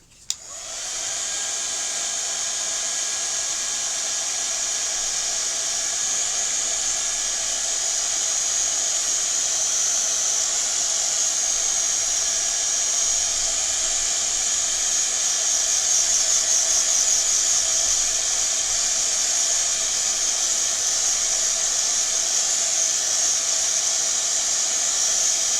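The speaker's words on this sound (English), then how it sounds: "And if you do hold your heat gun down" A heat gun blows steadily over resin in a craft mould, a constant loud airy whoosh with an even motor whine that runs unbroken for the whole stretch with no talk over it.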